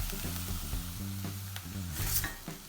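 Ground beef frying in a wide-bottomed pan, a steady sizzle with scraping and stirring strokes against the pan at an uneven rhythm, close and moderately loud, no voices.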